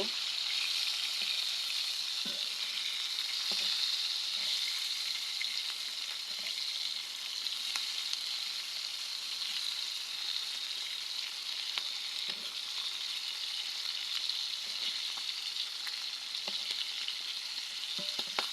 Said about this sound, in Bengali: আমার মাছগুলো হয়ে গেছে, এবার মাছগুলো আমি উল্টিয়ে দেব